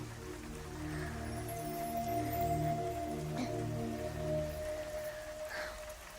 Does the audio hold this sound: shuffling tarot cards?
no